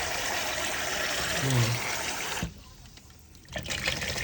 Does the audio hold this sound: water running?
yes